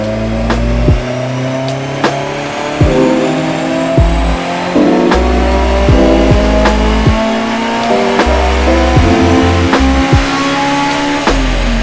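Tuned Honda S2000 with a K-series swap on KPro engine management, revving hard in repeated bursts with loud pops and bangs on each throttle lift, close and loud throughout with no talking.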